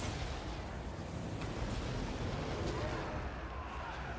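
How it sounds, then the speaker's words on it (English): Cannon volleys in a Warhammer fantasy battle game boom in a dense, continuous barrage with rumbling explosions throughout, loud and layered under battle noise. "Cannons! Fire!"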